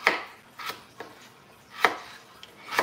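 A knife chops radish on a cutting board for chicken pozole, giving a few sharp, spaced thuds in an uneven rhythm, close and clear, with no talking.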